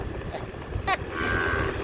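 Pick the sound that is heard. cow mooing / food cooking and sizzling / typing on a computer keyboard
cow mooing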